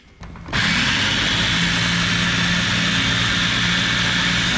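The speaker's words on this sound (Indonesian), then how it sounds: "terakhir blender juga kunyit yang sudah kita sangrai." An electric blender grinds roasted turmeric, starting with a short stutter before the motor surges to a loud, steady whirring drone that holds unchanged to the end.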